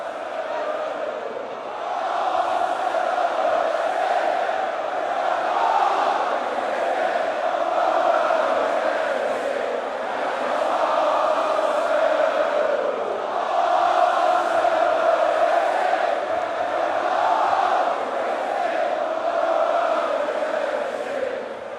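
A big crowd of Arsenal football fans sings a chant together at an outdoor FA Cup victory parade, a loud sustained mass of voices rising and falling in rhythm for the whole stretch.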